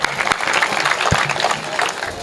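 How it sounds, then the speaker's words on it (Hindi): An audience claps at a Hindi comic poetry gathering, a dense burst of applause lasting a couple of seconds with a few louder individual claps, a crowd in a hall. "एक बार तालियां बजाइए"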